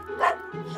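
A cartoon dog gives a single short, high yapping bark up close, set against soft background music in an animated children's episode.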